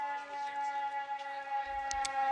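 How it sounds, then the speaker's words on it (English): A siren sounds at a high school slow-pitch softball championship after a double play, a steady sustained wail at moderate level, heard alone over faint crowd murmur. "Double play, the siren plays"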